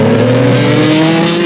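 A cartoon race car roars past at speed, a loud, steady engine whine holding a constant pitch for a brief moment with no voices.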